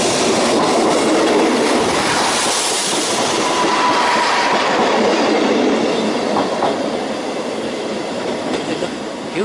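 A train crosses Barmouth bridge at around 25 to 30 mph, a loud, sustained rumbling roar with rhythmic clatter of wheels over the rails and brief squeals, heard up close and steady throughout.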